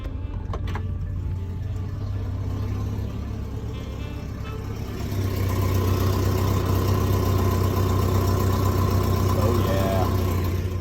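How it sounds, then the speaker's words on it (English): Naturally aspirated B230F engine in a car idles with a steady low hum, growing slightly louder and fuller about halfway through, then running on evenly at close range. "I figure we should also get a good listen to the engine as we fire this bad boy up."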